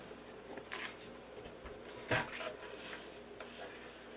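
Cardstock for a pumpkin tri-fold card is scored with a tool, giving soft, close scraping and rubbing strokes, several short passes with one sharper scrape in the middle.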